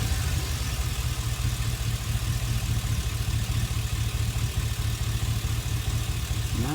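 A Chevy Express van engine idles steadily at close range, its low even rumble holding throughout with no talk over it.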